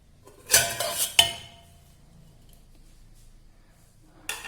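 A metal lid clanks open on a pot of green coffee with a couple of sharp clinks of utensils against the pot, then quiet before one more clink at the end.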